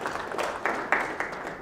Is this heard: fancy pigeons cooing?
no